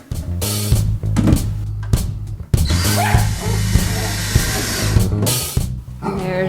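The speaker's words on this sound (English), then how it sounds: "There's the vicious dog." A small dog barks and yips in a home during a shelf build. The sharp bursts come close and loud, mixed with clattering.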